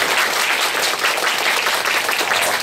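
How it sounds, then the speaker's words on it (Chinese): A lecture audience gives warm applause to welcome a guest physics lecturer, a dense, loud and continuous wash of many hands clapping at once that holds steady throughout. "我们就以最热烈的掌声来欢迎我们今天讲师黄老师"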